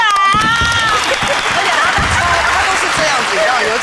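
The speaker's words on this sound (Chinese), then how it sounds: "鼓掌。" Studio audience on a Taiwanese talk show clapping: a burst of applause that follows a voice and keeps going steadily, fairly loud and close.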